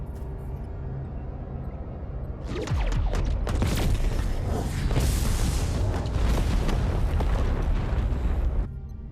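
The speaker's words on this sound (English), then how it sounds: "Tricobalt devices ready, Captain. Fire." Tricobalt devices fire in the Star Trek Voyager Across the Unknown game, a loud sustained roar of explosions with rumbling booms and crackling bursts that swell after a quiet lead-in and hold steady before cutting off.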